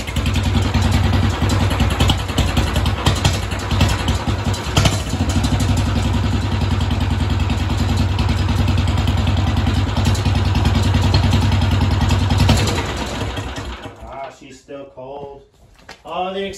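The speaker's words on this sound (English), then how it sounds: "Now we're gonna fire up the engine while it's still hanging from the roof" Small lawn kart engine roars steadily at close range with rattling and clatter while the kart hangs from the roof, then cuts out near the end, leaving quieter noise and a faint voice.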